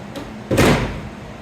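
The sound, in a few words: door being closed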